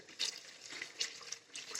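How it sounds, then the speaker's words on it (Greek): Water poured into a pan of chicken cooking in a mustard, lemon and orange juice, heard as a few short splashing pours close by, quiet overall and without talk. "Βάζουμε το νεράκι."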